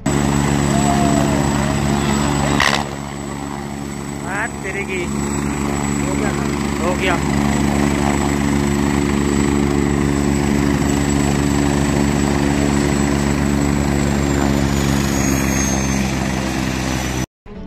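Helicopter with its rotor running on the ground at Kedarnath, a loud continuous engine whine and rotor drone throughout, with a brief spoken phrase and a sharp thump early on.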